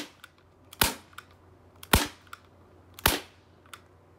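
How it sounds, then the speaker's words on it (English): Three sharp air pistol shots spaced about a second apart, each a loud crisp crack with a short decay over a quiet background, and no talking. "I'd take my gun out, take it off safety, and fire at least 2-3 shots."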